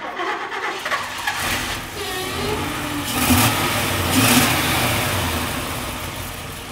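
Engine of a Mercedes 600 Pullman while driving, a mid-pitched hum that swells as it accelerates, with revs rising and easing across the stretch and no speech.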